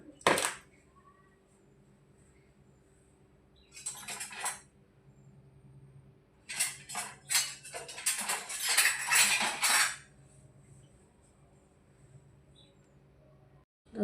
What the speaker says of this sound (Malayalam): നമുക്ക് അടുപ്പത്ത് വയ്ക്കാം നമുക്ക് ഇളക്കി വിടാം